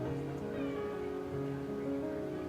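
A cat meows indoors at a steady, moderate level, the sound continuous and tonal across the whole stretch, with a person speaking softly alongside it.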